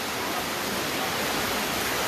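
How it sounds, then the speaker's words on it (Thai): Heavy rain pours down steadily during a flash flood at a village home, a dense, unbroken roar of water filling the scene with no voices. "ฝนก็ตกมาเรื่อยๆ"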